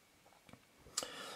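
A Nikon F2 camera fires its shutter at the end of the self-timer run: faint small ticks lead into a single sharp, close mechanical snap near the end of the clip.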